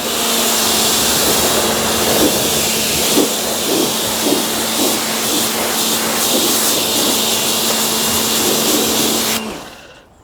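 A steady, loud hiss of water spraying from a pressure hose rinses car bodywork, continuing evenly until it cuts off abruptly near the end.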